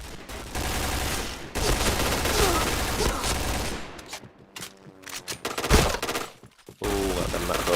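Rapid automatic gunfire from a video game rattles in long sustained bursts, then breaks into shorter scattered shots and pauses before resuming loud and close.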